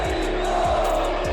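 Atlético Mineiro supporters roaring inside the Mineirão stadium, a dense, loud wall of crowd shouting with rhythmic bursts of chanting throughout.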